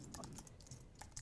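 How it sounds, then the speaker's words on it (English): Fingers tap on a computer keyboard in a quick, uneven burst of soft clicks over a little more than a second. The typing is quiet and close, with no talking. "I'm telling you what I'm typing now."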